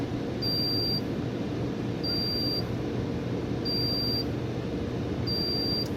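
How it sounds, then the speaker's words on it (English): A megohmmeter sounds a high, thin test beep four times at regular intervals, each lasting about half a second, over a steady background hum. "It's good that it has that beep, kind of lets you know it's testing."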